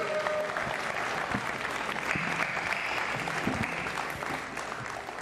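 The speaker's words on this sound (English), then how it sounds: "Round of applause for these two." Audience applause at a boxing press conference, a steady dense wash of clapping from a crowd that carries on for the whole stretch, with no voices on top.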